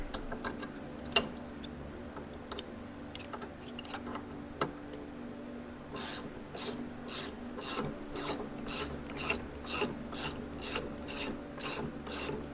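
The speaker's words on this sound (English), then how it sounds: "We're going to use this here ratcheting wrench." A ratcheting wrench turns a bolt during axle and shock work on a 2003 Polaris Sportsman 700. After some scattered ticks and clunks comes a steady, rhythmic series of close, raspy ratchet strokes, about a dozen even pulls.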